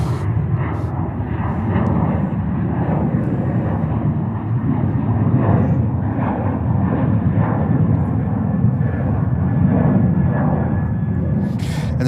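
A Frontier Airbus A321neo with geared turbofans arriving at New York's JFK airport, a sustained low engine roar that stays steady and moderately loud, with voices talking over it.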